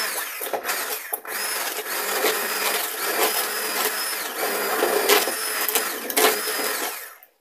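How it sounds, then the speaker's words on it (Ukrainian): An immersion blender purees pears for pear and lemon jam, a continuous whirring motor whine held for several seconds with small bumps in pitch and loudness, ending abruptly. "я беру погружний блендер, можна толкушку, і деяку кількість грушок треба просто перебити."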